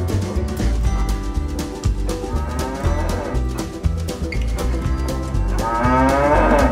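Limousin cattle moo repeatedly, with deep, drawn-out calls overlapping one another at close range against a steady farmyard background.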